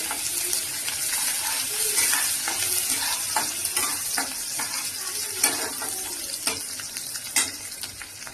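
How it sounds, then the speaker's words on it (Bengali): Almonds, cashews and other dry fruits and nuts fry lightly in a pan, giving a steady hissing sizzle with repeated scraping stirs and occasional clinks up close. "ড্রাই ফ্রুট দিলাম আমি, বাদাম আছে, আমল আছে, কাজু আছে, হালকা আমি ফ্রাই করবো।"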